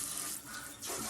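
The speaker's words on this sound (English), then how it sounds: "And then we're going to test the sprayer." A newly installed kitchen faucet's pull-down sprayer runs water into the sink, a steady close hiss of spray that briefly softens midway before returning full.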